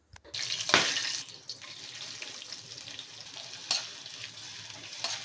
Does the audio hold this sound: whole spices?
yes